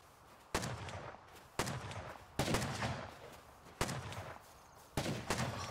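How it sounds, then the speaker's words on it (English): Gunfire in the Rust video game during a raid: five sharp, loud shots or short bursts spaced about a second apart, each with a rumbling decay, over a steady low background. "There's more shooting coming."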